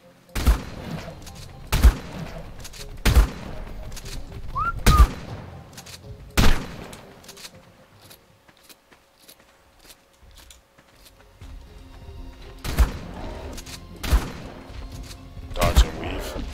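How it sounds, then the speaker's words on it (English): Video game shotgun fire rings out as loud, booming single blasts spaced a second or so apart, then a quieter gap before more shots resume, with faint game ambience underneath. "I'll just get me old trusty shotgun out"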